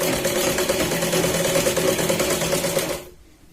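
Sewing machine running a continuous double line of stitching to join a sleeve on a katori blouse, a steady close mechanical whirr with rapid needle clatter that stops abruptly near the end.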